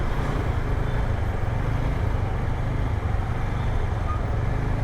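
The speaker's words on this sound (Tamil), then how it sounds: "ஸோ லிட்டரலி டிராஃபிக் ஜாமாக இருக்குது." Heavy traffic is jammed on a Bangalore road near Hebbal, heard from a bike: a dense, continuous low rumble of cars, trucks and buses, steady and close, with no voices.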